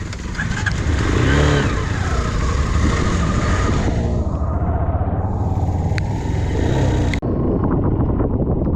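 A motorcycle rides off-road on a forest trail, its engine loud and close as it revs, rises and falls, then cuts to a quieter idle near the end.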